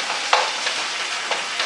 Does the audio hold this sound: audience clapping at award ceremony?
no